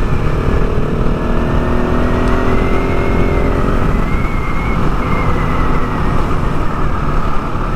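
A KTM 690 Enduro R single-cylinder thumper drones steadily while riding on a dual sport ride, a loud continuous engine note with wind roar and a slight pitch shift midway. No one speaks.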